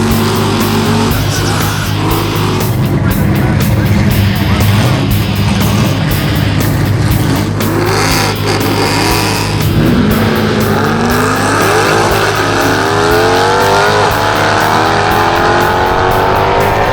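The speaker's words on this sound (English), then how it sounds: "We're about to hit the track, go drag racing in this car." A Magnuson-supercharged AMG coupe roars hard down a drag strip, loud and sustained with rising engine pitch as it accelerates through the gears, heard without any voices.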